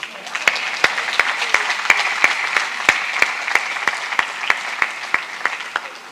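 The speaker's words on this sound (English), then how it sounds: "Please stand up and let them clap for you again." Audience applauding at a university convocation ceremony, steady crowd clapping with a few loud, distinct close claps standing out rhythmically over the dense patter.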